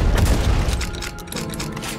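A shotgun firing in the game Project Warlock 2, heavy booming blasts in quick succession, loud and close, with no talk over them.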